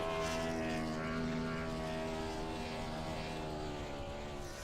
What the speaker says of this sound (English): You can hear some engines starting to go out there.